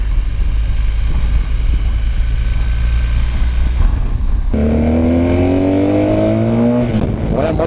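BMW R 1250 GS motorcycle ridden hard on a test ride, with a steady wind-buffeted engine drone that gives way to loud, rising revs as the bike accelerates sharply, heard up close from the rider's position.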